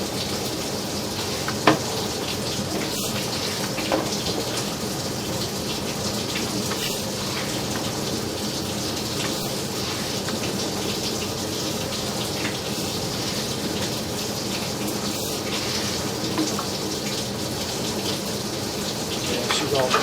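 Water pours from a broken pipe in a steady, loud broadband rush with a splashing hiss, constant throughout, with faint occasional knocks.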